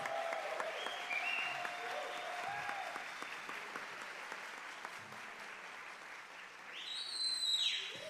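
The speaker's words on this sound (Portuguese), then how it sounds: "Uma salva de palmas." An audience at a solemn legislative session in São Paulo honouring a children's rights defence centre claps in a sustained, even round of applause, moderately distant and swelling slightly near the end.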